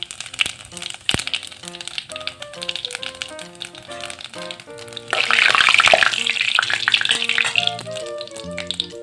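Whole cumin seeds sizzle in hot oil for a mutton curry, a steady crackling hiss under background music that swells loudly about halfway through.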